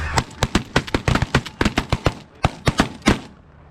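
Shotguns fire in a rapid volley at geese during a goose hunt, roughly twenty sharp overlapping reports from several guns over a few seconds, loud and close.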